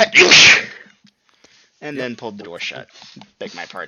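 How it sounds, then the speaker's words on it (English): A person sneezes once, loud and close, followed by a pause and then people talking. "I sneezed."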